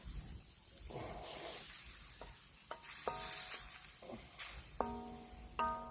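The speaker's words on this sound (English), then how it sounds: "So I'm going to throw in some tomatoes." Baby plump tomatoes sizzle in a frying pan, a steady soft hiss with occasional stirring scrapes and clinks, no voices.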